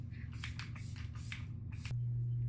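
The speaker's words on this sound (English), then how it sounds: "Oh, setting spray." Several short bursts of fine makeup setting spray hiss in quick succession, close by, over a steady low hum that shifts tone near the end.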